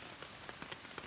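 Rain patters on a camping tarp in the Great Smoky Mountains, a steady close hiss broken by frequent distinct drop taps at an irregular rhythm.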